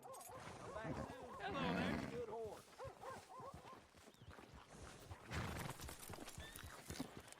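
A horse in the video game Red Dead Redemption 2 whinnies and snorts over a steady clip-clop of hooves, and a few dog-like yelps mix in. Voices talk throughout.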